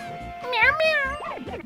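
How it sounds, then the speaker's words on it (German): A cat-like Pokémon meows in a Pokémon Ultra Sun game, a few short high, warbling synthesized mews in quick succession over a low rhythmic background tune. "Miau, miau."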